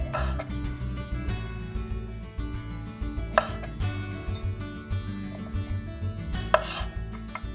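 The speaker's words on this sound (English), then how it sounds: "take the fingerling potatoes and actually cut it just a little bit, trim it just a little bit from the edges" Knife trimming the ends off fingerling potatoes on a cutting board, a steady series of soft chopping taps at close range with occasional sharper knocks and a low background hum.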